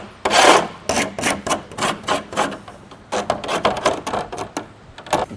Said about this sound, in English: You can just take a razor blade, kind of scrape it against there.